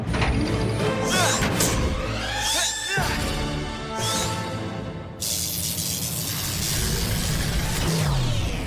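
A giant can opener mechanism in a Sonic Boom cartoon grinds and ratchets loudly, with creaking metal, clanking gear sounds and several abrupt cuts, and almost no speech.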